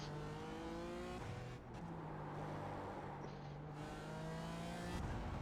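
Onboard engine of a BMW GT4 race car at Interlagos, a loud continuous drone with rising revs through the gears, a brief dip near the middle and renewed acceleration at the end, with no talking.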